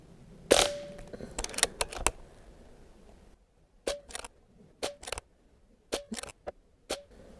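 An air rifle fires Barra .177 pellets at a range target, sharp snapping shots at irregular intervals. Each crack is followed by a quick secondary click, with quieter gaps between the shots.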